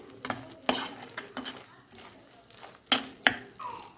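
Edible gum fries in ghee with wheat flour in a pan as a spoon stirs and scrapes. Sharp clinks and scrapes come in uneven bursts over a faint sizzle.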